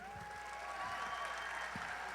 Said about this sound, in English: Let's get the bagpipers a round of applause